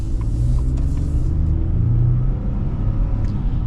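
A Ford F-150 pickup with the 2.7 engine accelerates, heard from inside the cab as a loud, steady low engine rumble with smooth road noise and no breaks.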